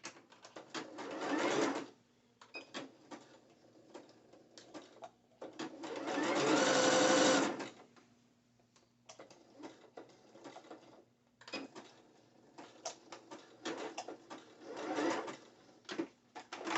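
A sewing machine stitching elastic onto dancewear runs in close, steady mechanical bursts of rapid needle chatter, with one long sustained run mid-way and shorter starts and stops around it, alone without voices.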